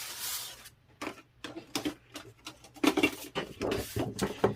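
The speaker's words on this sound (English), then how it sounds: "You're going to use your trimmer to do the straight line." A paper trimmer slices through double-sided scrapbook paper with a series of close, sharp scraping strokes and clicks, irregular bursts separated by short pauses.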